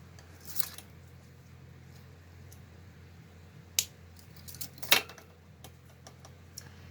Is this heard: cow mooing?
no